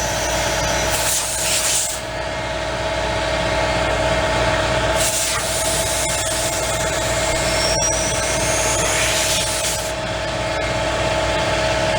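An air compressor runs with a steady mechanical drone and hum, with occasional bursts of hissing air rising over it.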